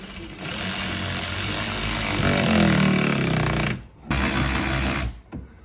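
A power driver runs self-tapping screws into a truck mud flap on a GMC AT4X HD with AEV package, a loud continuous whirring burst, a brief pause, then a second run before stopping.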